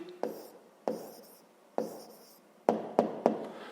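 Pen or chalk writing out a math answer, heard as six short scratching strokes in an uneven rhythm, close and fairly quiet, with faint room tone between strokes and no talking.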